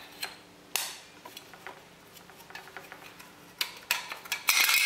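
A 3/8-inch ratchet with a 13 mm socket works a metric nut on a Mercedes secondary air pump, giving soft clicking ticks at an irregular pace. Sharper metallic clanks and rattles grow louder toward the end as the nut turns free.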